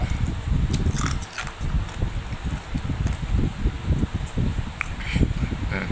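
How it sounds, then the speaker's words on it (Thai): Ice cubes are crunched between the teeth close to the microphone, a rapid run of coarse, gritty crunches repeating without pause. "ได้ยินเสียงเมื่อกี้ใช่ไหม เสียงเคี้ยวน้ำแข็งกรอบกรอบกรอบกรอบเลย"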